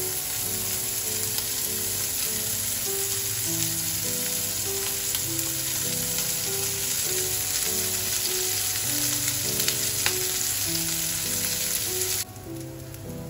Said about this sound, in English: They're going to be shallow fried.